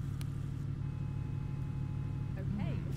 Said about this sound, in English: Sounds like I got a traffic jam off to my right here